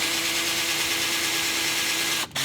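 A power drill runs in reverse on a Stew Mac Mini T guitar kit, giving a loud, steady close whine that breaks off briefly near the end and then resumes.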